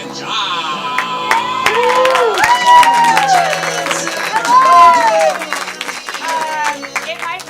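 A theatre audience applauds and cheers loudly as hosts Emily and Josh walk on stage at a Level 1 grad show, with dense clapping, whoops and crowd noise sustained throughout.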